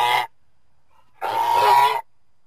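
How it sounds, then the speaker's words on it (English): A goose gives two loud, nasal honks close by, a short one followed after a pause by a longer one, with nothing else heard. "Goose."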